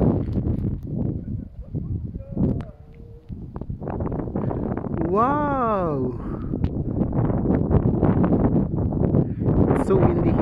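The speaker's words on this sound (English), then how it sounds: "It's so windy here." Strong wind buffets the microphone on Montcel mountain in France where paragliders take off, a constant roar and rumble under excited talk, with a brief exclamation and a whistling tone midway.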